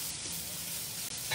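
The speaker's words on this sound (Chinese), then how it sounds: "黑木耳跟它爆香爆香" Black fungus stir-frying in plenty of hot oil for a spicy hot pot, a brief, continuous close sizzle with a slight clatter near the end.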